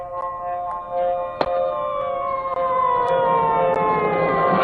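Police siren wailing from somewhere above, a sustained rising and falling electronic tone that stays loud and steady throughout, with a couple of sharp knocks along the way and no talking.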